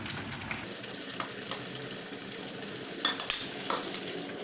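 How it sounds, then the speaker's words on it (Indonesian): Shredded skipjack tuna sizzles in hot oil in a pan, with a steady close frying hiss and sharp metal clinks of a utensil stirring and scraping near the end; no voices. "sekarang baru prosesnya kita masukin ikan yang tadi udah disuir-suir"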